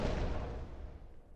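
A torpedo launching from tube 2 of a U-boat in the submarine game UBOAT, heard as a loud broadband whoosh and rumble that starts at full strength and slowly fades over about a second and a half.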